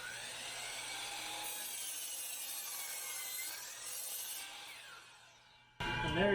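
A power saw makes an angled cut through wood, giving a steady, loud rasping whine that tapers off toward the end before a sudden louder burst of noise in the final moment.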